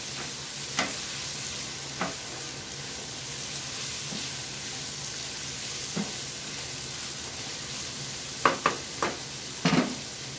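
Vegetables and egg cooking in a pan, a soft steady sizzle throughout with occasional utensil scrapes and taps against the pan, louder clustered stirring knocks near the end.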